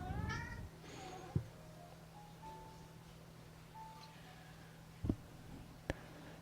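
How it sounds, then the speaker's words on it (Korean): A pet cat meows several times nearby, a few drawn-out cries early on and brief sharp sounds later, over a quiet room hum. "저희 고양이가 옆에서 야옹대는데"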